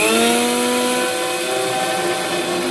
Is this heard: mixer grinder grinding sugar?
yes